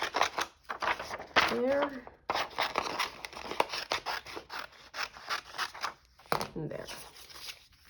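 Scissors snip through paper for a junk journal kit, a run of short crisp cuts close by, broken by pauses, while someone speaks briefly over the cutting.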